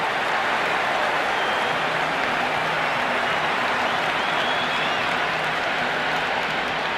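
Stadium crowd at an IPL cricket match between Mumbai Indians and Gujarat Titans roaring and applauding continuously, a dense, loud, sustained wash of clapping and cheering with no pauses.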